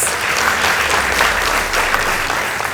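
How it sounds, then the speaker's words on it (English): A crowd at a high school debate competition gives a round of applause, dense and loud clapping filling the whole stretch without pause. "Let's give them a round of applause."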